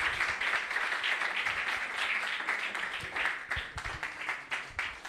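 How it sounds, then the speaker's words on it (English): An audience at a startup challenge grand finale applauds the team from Troba, a broad wash of clapping that carries on steadily and thins slightly toward the end. "Please, a round of applause once again for the team from Troba."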